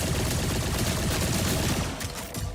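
Rapid gunfire in the video game Borderlands 4, a dense, continuous burst of shots running together without pause for about two seconds before thinning slightly at the end.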